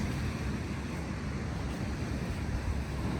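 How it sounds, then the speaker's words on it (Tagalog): Strong surf rolls at a Kauai beach in Hawaii, a continuous heavy roar of breaking waves mixed with gusty wind buffeting the microphone, with no voices. "Lakas kayo ng alon."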